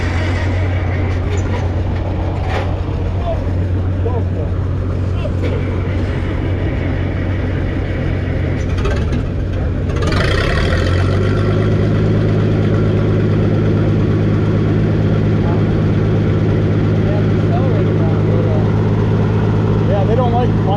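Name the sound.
antique tractor engine starting and running at an auction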